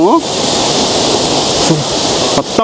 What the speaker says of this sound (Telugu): అక్కడ వాటర్ ఫాల్ అవుతున్నాయి కదా